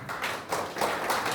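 An audience clapping hands at a gathering for a general secretary's speech in Trichy, a short burst of dense, steady applause at moderate distance, with no talk over it.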